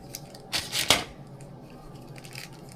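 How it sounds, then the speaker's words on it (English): A knife cuts through a homemade peanut butter bar with a chocolate top, giving a short crisp scrape and crunch of about half a second, close and moderately loud, in an otherwise quiet kitchen. "So I'm going to cut a piece to taste for myself."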